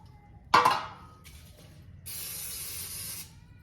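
Cooking oil sprays onto a baking pan in two short hisses, a sharp burst followed by a longer, steadier spray about a second later, close and fairly quiet in a kitchen.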